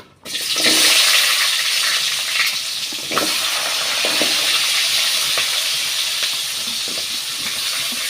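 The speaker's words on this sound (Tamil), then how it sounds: "இப்போ வெங்காயம் தக்காளி பூண்டு இதெல்லாம் வந்து வதக்கி எடுத்துக்கலாம்" Steady, loud sizzling of onions, tomato and garlic sautéing in hot oil, with occasional stirring clatter, continuing throughout after a brief quiet start.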